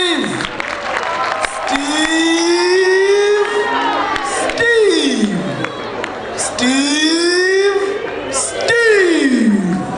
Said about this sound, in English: let's clap hands for Steve